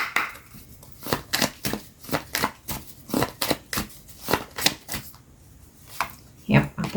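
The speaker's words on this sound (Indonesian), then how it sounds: "aku tarik dulu semua kartunya ya" Tarot cards are shuffled and drawn in a quick run of crisp, papery riffles and flicks, close and fairly rhythmic, with brief pauses between bursts.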